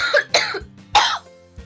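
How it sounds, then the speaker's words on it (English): A few harsh, close coughs in quick succession, with short pauses between them and nothing else around. "Sorry, I got a cough."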